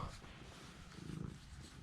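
A shop cat purrs softly in a car workshop during a 1967 Camaro SS restoration, a faint, low, steady rumble with a few slightly louder pulses, close by and alone.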